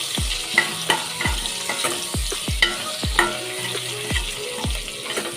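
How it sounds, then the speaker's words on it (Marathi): Asafoetida powder stirred into a hot tadka with curry leaves in a kadai: crackling sizzle under repeated sharp metal spoon knocks and scrapes in an uneven rhythm, close and fairly loud, with no voices. "आता घालूया आपण हिंग पावडर एक चमचाभर हिंग घालायचं आहे आता आपण हे चांगलं हलवून घेऊया"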